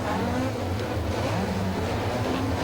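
Hot rod race cars roll away together on a rolling lap, producing a steady, distant drone of engines with a faint, even hum of several motors blended into a continuous roar.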